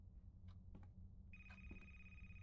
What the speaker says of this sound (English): Sorry for making you guys listen to a phone ring for 20 minutes.